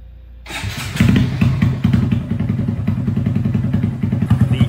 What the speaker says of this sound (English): The IXIL exhaust sounds amazing.